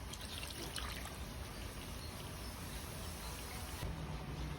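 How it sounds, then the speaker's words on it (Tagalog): Water pours steadily into a cooking pot holding tulingan fish, a continuous soft splashing trickle with no talking. "At syempre lagyan na po natin ng tubig."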